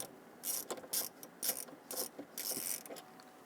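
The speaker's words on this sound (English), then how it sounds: "Using a 10mm socket, loosen the anchoring nut here." Socket wrench ratchet clicking in bursts while loosening the 10mm battery anchoring nut on a Dodge Charger, repeated close, crisp ratcheting strokes with short pauses between.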